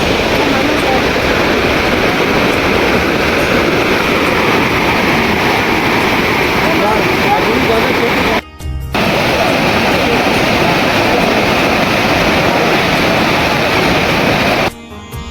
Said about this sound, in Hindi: ये है मैनाल का झरना और राजस्थान के जो भी बड़े झरने हैं उनमें से एक है ये।